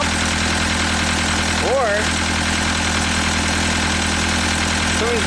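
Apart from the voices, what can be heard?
Perkins diesel engine idling on a Genie lift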